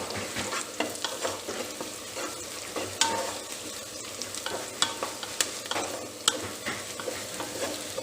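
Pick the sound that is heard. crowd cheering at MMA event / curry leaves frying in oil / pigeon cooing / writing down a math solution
curry leaves frying in oil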